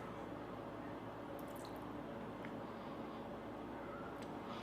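Water poured over a shoe coated with wax, running and dripping off its surface in a steady close-up wash with a few brief splashy drips, no talking.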